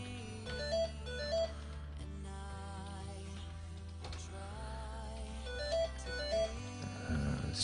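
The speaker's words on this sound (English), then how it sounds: "My phone is ringing, but I'm not going to answer it." A phone ringtone plays a repeating electronic melody for several seconds at moderate volume, with no one speaking over it.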